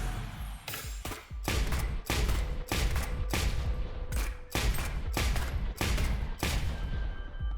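The Phantom weapon in the video game Neon Abyss fires steadily, a loud run of sharp shots spaced about half a second apart over a constant rumbling game background, with no speech.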